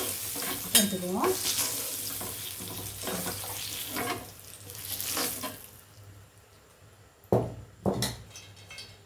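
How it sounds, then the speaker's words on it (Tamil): Green mango pieces frying in hot oil for a fish sambal, a steady close hiss with scraping and clattering of a ladle against the pan, several louder knocks near the end. "இப்போ மாங்காய் பொரிஞ்சிருச்சு"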